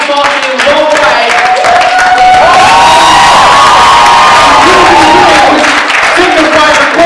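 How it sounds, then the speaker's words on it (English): A large event crowd cheers and applauds loudly for someone speaker, with whoops and shouting voices swelling over continuous clapping. "I want you guys to stand up and give me a massive round of applause"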